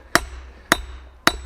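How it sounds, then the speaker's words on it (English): Three evenly spaced, loud, close blows from a 4-pound sledgehammer hit railroad track steel on a small anvil, each a sharp impact that decays quickly. "this is a home base 4-pound sledgehammer"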